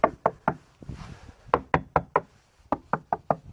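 Knocking taps on the deck of a Tartan 27 sailboat: a close series of about fourteen sharp, hollow raps in uneven bursts with brief pauses between, and no talking.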